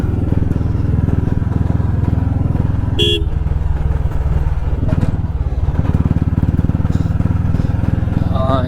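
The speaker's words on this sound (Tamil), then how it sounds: "கிழிக்குது வண்டி, நம்ம வண்டி." A motorcycle engine runs steadily and close by during a Tamil motovlog ride from Erode to Coimbatore, with a low continuous drone, a short horn toot around the middle, and a rider's voice heard faintly over it.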